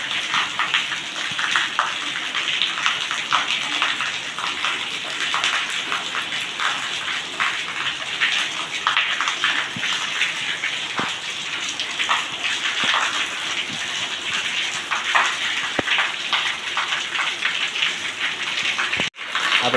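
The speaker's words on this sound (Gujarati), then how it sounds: "તો જુઓ મિત્રો, થઈ ગયો વરસાદ ચાલુ" Steady rain pours down close by for the whole stretch, a dense hiss broken by sharp individual drops and patters on a surface, with no one talking.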